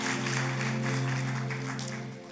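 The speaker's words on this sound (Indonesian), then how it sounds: "kita kasih tepuk tangan yang meriah buat Tuhan kita" A church congregation claps together in worship, a steady wash of applause under sustained organ or keyboard tones, moderately loud and fading slightly at the end.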